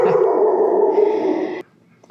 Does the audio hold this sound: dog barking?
yes